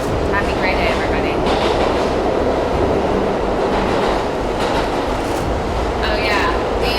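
A New York MTA subway car rides along with a loud, steady rumble, rhythmic wheel clatter and occasional metallic squeals that fill the whole stretch.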